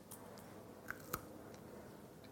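Pasteli, Greek sesame bars made with toasted sesame, almonds and honey, chewed close up: a few soft, sticky crunches and two sharper bites over quiet background, no talking.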